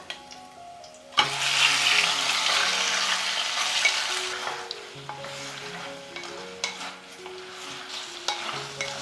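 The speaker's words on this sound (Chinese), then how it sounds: "再加入猪肠翻炒。" Pork intestines stir-fried in a wok with ginger slices and peppercorns, a loud burst of sizzling that starts about a second in and keeps crackling steadily, with scraping stirs and a few clinks of the spatula against the pan.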